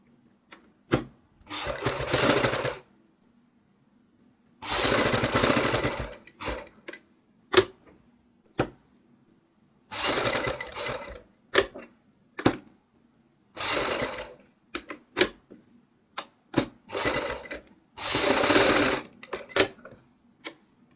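A sewing machine stitches the neckline of a kurti in short separate bursts, each a close rattling run of the needle, broken by quiet gaps and small clicks as the fabric is repositioned.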